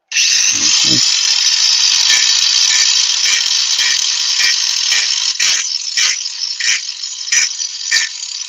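A rotary disc tool bites into a wooden bud vase with a loud, continuous high-pitched whine and buzzing rattle, interrupted by regular chattering bursts as the cutter catches the wood.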